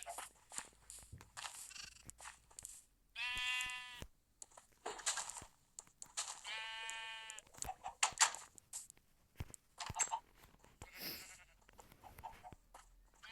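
Two drawn-out sheep bleats ring out on a Minecraft farm stocked with sheep and chickens, each lasting about a second, with soft clicks and footstep sounds in between.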